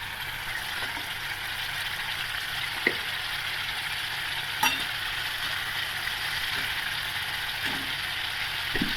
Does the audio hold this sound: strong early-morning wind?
no